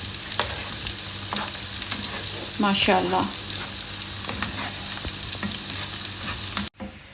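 Onion and garlic frying until golden in a pan for a tadka, a steady close sizzle with stirring clatter throughout, and a brief spoken remark in the middle.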